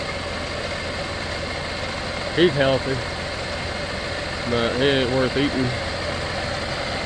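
A big tractor idles steadily on a farm during a wild pig trapping outing, its low mid-pitched engine drone running unbroken throughout while someone talks over it in two short bursts.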